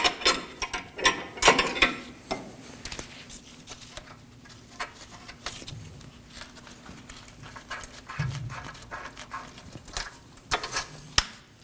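A ratchet wrench works a ball joint nut on a 2013-2019 Nissan Sentra front suspension, giving bursts of close, rapid clicking at the start and scattered sharper clicks later, with a faint steady hum underneath.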